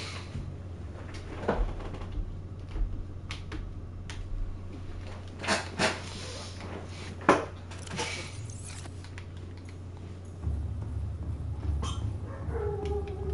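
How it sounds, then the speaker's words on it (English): Indoor dogs bark in short, sporadic bursts mixed with clattering knocks, over a steady low hum that grows louder near the end. "The dogs are happy."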